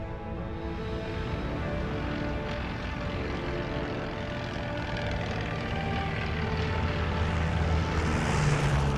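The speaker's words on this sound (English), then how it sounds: "We have planes struggling to get home." Propeller-driven planes of the Midway era drone steadily overhead, a continuous engine hum that swells slightly toward the end, with no voices.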